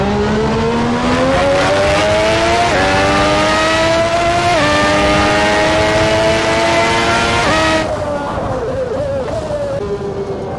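A 1992 McLaren MP4-7 Formula One car in the Assetto Corsa racing game screams through a lap, its loud high-revving engine climbing through several gears with sharp upshifts, then dropping to a lower burble as it slows.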